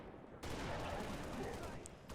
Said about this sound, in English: now we're gonna use this sniper rifle to kill this brute chieftain up here